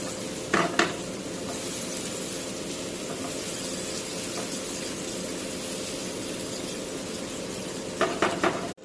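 Chepa shutki, fermented dried fish, fries in a pan with a continuous close sizzle, and a spoon scrapes and stirs it in brief bursts at the start and end, with no talking.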